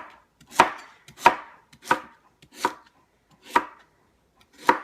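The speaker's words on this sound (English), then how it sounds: "So I peeled and cut about 4 sweet potatoes." A knife chops through peeled sweet potatoes on a cutting board, six sharp, distinct thuds at an even, unhurried pace, close and clear with no talking.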